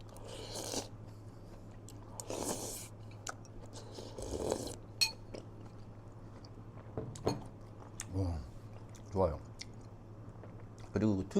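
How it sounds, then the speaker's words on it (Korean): Someone eats doenjang soup made with curly dock (sorrel) greens, with soft close chewing and slurping, occasional spoon and bowl clinks, and a few brief vocal murmurs between mouthfuls. "다시 한번 먹어보겠습니다"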